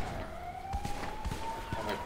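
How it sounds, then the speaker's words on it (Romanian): Police sirens in the game FiveM wail steadily at moderate distance, a rising tone sustained throughout, with scattered thumps and people talking over them. "Mamă, ce sirene cu spaină."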